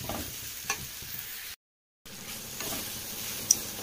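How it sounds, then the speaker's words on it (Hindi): Soya chunks (Nutrela) sizzle steadily while frying in a pan, with soft scraping stirs over the hiss, a short break of silence midway, and no talking. "इसको थोड़ा सा फ्राई कर लेंगे।"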